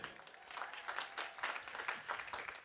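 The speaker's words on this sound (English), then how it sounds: "Let's hear a round of applause for that." A round of applause breaks out at the San José City College commencement ceremony, rather faint and distant, with uneven clusters of clapping from a large crowd rising and falling.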